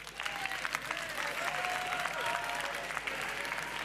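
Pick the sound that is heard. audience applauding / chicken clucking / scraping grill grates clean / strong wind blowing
audience applauding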